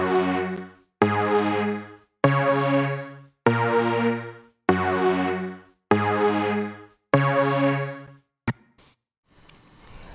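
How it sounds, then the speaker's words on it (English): Two-oscillator saw-wave synth in Ableton, seven evenly spaced sustained chord stabs, each decaying before the next, bright and buzzy, followed by a brief click and faint noise at the end, with no voices. "I just use these two oscillators using a wave, a saw, yeah, saw wave."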